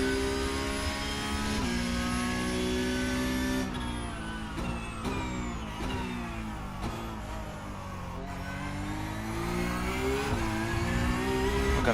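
Porsche Cup race car engine in the iRacing sim, a loud continuous engine note that swells and dips in pitch as it revs through gear changes, with no talk over it.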